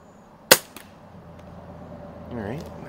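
Walther LGR scoped air rifle firing 8.2 grain Meister Kugeln wadcutter pellets, a single sharp close crack followed by a faint echo, then quiet with a soft rising hum, no talk.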